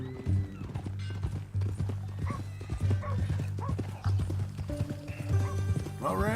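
Horse hooves clip-clop in a steady rhythm in Red Dead Redemption 2, close and continuous, with a brief whinny and faint background game sounds.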